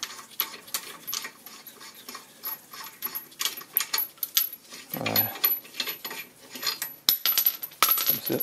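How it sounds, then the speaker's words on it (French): A hammer strikes an axle nut on a 2004 Toyota Avensis during front wheel bearing replacement, deforming it into the groove: a series of sharp, irregular metallic taps and clinks, close by and fairly bright. "on va taper sur l'écrou de façon à le déformer et à le rentrer dans la rainure tout simplement"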